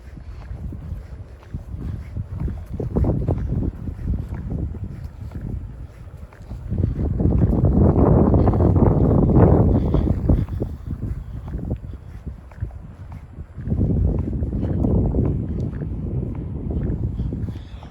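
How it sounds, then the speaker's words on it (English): Gusty wind buffets the microphone on a beach walk, a low broadband rumble that swells and eases in several long surges, loudest mid-clip, with no talk over it. "If you can hear that wind right now,"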